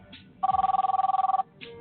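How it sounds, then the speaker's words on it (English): A telephone bell rings in one steady trill of rapid pulses for about a second, clear and fairly close, with brief softer electronic tones just before and after. "I woke up to my telephone ringing."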